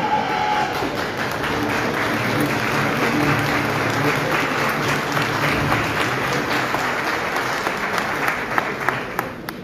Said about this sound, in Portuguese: As palmas são muito poucas, parece que não há intenção.